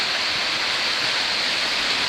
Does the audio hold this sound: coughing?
no